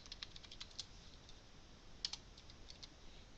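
Fingers type on a computer keyboard while entering order details, a quiet, close run of irregular key clicks with brief pauses and a couple of sharper taps, no voices.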